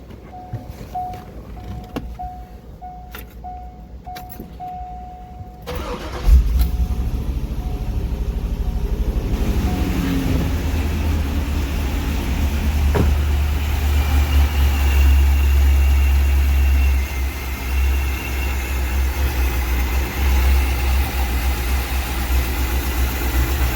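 A C5 Corvette with its valve covers off cranks and fires up partway through, then settles into a loud, steady idle close by, preceded by quieter electrical whirring.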